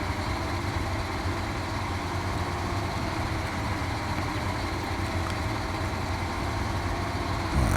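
A heavy truck engine in the Snowrunner off-road driving game labours steadily under load, a continuous low droning rumble held at constant loudness for the whole stretch with no talk over it.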